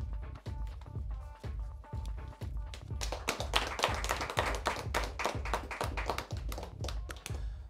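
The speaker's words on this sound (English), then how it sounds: "a big round of applause for our judges" Audience applause for the judges at a debate competition prize-giving: a few sharp, evenly spaced claps quickly swell into dense, sustained clapping from a whole crowd that carries on to the end.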